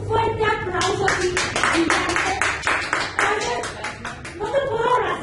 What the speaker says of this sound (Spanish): yo sí le voy a brindar un fuerte aplauso aquí.